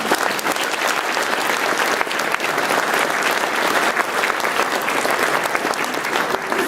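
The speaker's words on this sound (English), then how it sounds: "So give them a round of applause even before they arrive." A large audience at an awards ceremony claps steadily and continuously, a full, even roar of many hands that holds at a moderate level throughout.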